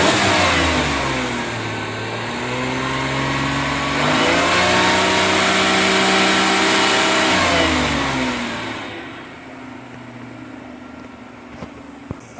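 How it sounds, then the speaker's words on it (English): A car engine in a fuel systems lab revs up steadily, climbing and holding a loud mid-pitched roar for several seconds before dropping back to a quieter idle. "And then now Chris can rev it up."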